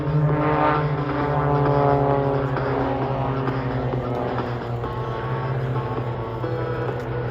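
Three stunt biplanes, Pitts Specials, fly in tight close formation at an airshow, their propeller engines giving a steady, loud droning hum with wavering harmonics that holds throughout, with no talk over it.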